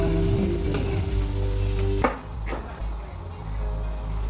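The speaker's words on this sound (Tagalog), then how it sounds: "At ang sunod naman nating hiwain ay ang ating kamatis na pampaganda ng kutis." A knife slices tomatoes on a board, giving a couple of distinct cutting taps over a steady low hum of background noise.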